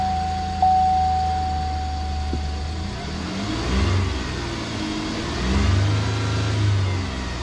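A 2015 GMC Canyon pickup's V6 engine hums at a moderate level inside the cab, swelling in pitch and volume through a few gentle pulls before easing back, with no one talking.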